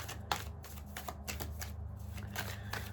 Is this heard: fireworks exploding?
no